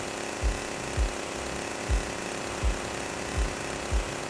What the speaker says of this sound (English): this is how it sounds in the original if you walk while holding the fire button